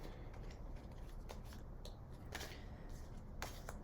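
Tarot cards being shuffled by hand, soft, close papery riffles and light slaps in short irregular bursts over a faint steady background, with no talking.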